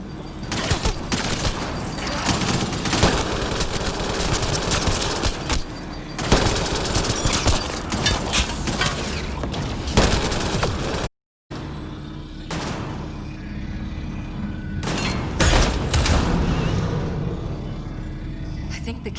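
Rapid bursts of automatic gunfire from a sci-fi shooter battle, sustained volleys with booms, broken by a brief silent cut near the middle, with voices shouting over the shooting.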